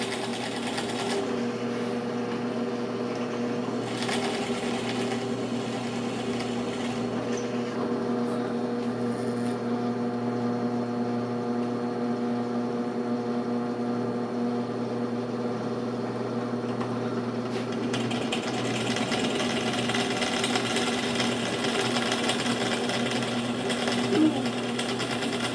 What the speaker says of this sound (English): Go ahead and drill it.